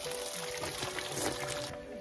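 Pure mountain mineral water pours in a steady, even stream at a Tibetan monastery, a continuous splashing trickle that holds at a moderate level for a couple of seconds.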